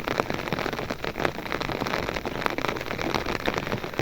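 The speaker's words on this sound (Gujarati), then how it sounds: "અને જોઈ લે વરસાદ તમને દેખાતો છે" Heavy rain falling on a surface, a dense, steady patter of drops close by, continuous throughout with no talk.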